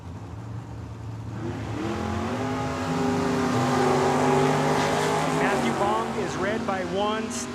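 Drag race between a Ford Mustang and a 1967 Corvette at a dragway: loud engines roar and rev through a steady sustained burst, harmonics rising as the cars accelerate, with an announcer talking over the noise.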